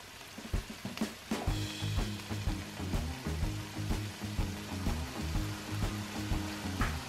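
Breakfast food crisps in a frying pan with a soft, continuous sizzle and faint crackle, punctuated by light rhythmic taps and stirring noises.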